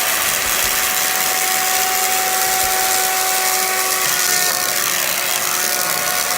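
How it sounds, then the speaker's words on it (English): A BESTEK PRO-cyclone handheld cyclone vacuum cleaner runs steadily around a litter box with sand, giving a loud, continuous broadband motor whine with a faint tonal hum, constant throughout with no talking. "Another fun area to vacuum is right around the litter box."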